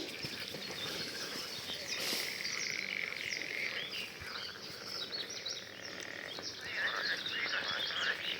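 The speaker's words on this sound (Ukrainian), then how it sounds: "включу вам трошки, щоб послухали, як жаби гвекають." Frogs croak continuously in a chorus, outdoors, with insects and an occasional bird call mixed in.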